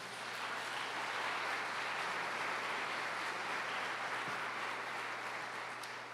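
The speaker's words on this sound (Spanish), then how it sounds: "Vamos a darle un aplauso a Él." A church congregation claps together in a continuous, even burst of applause with no talk, dense and steady throughout at moderate loudness in a reverberant room.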